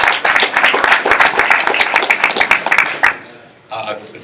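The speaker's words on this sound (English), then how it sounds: "So a big applause for my friend, the president of Showtime Sports, Steven Espinosa." Loud, dense applause from a press conference audience for the president of Showtime Sports, steady for about three seconds before stopping abruptly, then a short burst of noise.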